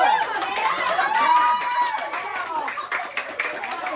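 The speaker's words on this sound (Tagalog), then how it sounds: "Ang mananalo, kung sino ang malakas ang palakpak, siya ang mananalo." Children clapping hard in a loudest-clap contest, rapid clustered claps under lively chatter and shouting voices, near and energetic, with an excited adult voice carrying over the group.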